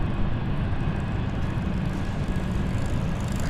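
A fixed-wing aircraft taking off from runway 27 at London City Airport, a steady broadband engine roar that stays continuous and even throughout, heard from a distance with no voices.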